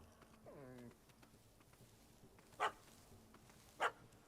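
A dog barks in The Witcher 3 video game: a drawn-out whining bark, then two sharp, separate barks a little over a second apart, heard over a quiet game ambience.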